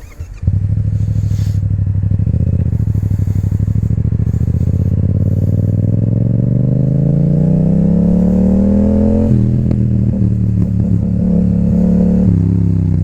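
A motorcycle with an Akrapovič exhaust revs steadily upward, then drops with sharp crackling exhaust pops and clatter near the end, loud and close.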